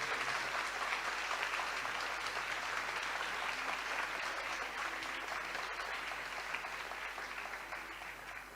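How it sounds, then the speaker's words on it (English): A large audience at a university inter-department debate competition breaks into sustained, loud applause, a dense continuous roar of many hands clapping that tapers slightly toward the end. "Please give them a thunderous round of applause."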